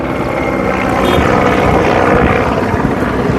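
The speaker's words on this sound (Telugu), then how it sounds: "హెలికాప్టర్లు తెగ తిరుగుతున్నాయి చూడొచ్చు" Helicopters circling over Delhi, a loud, steady rotor and engine roar that swells slightly mid-clip, dominating the sound with no voices over it.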